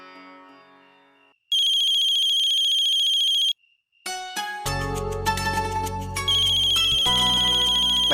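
A mobile phone ringtone in a Hindi television drama scene: a bright electronic tone chimes in sustained bursts, then keeps ringing over swelling dramatic background music, loud and close.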